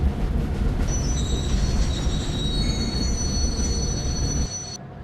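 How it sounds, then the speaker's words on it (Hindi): Train braking in an Indian GTA-style video game: a loud steady rumble of rolling wagons with high metallic wheel squeal sustained over it, easing off near the end. "तो हम मारते हैं अपनी ट्रेन में ब्रेक।"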